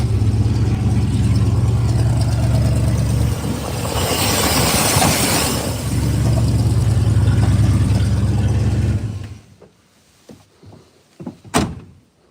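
Car fitted with a Sniper 2 fuel injection system cranking and firing up, a loud close rumble swelling and running for several seconds before dropping away to quiet clicks and a sharp knock.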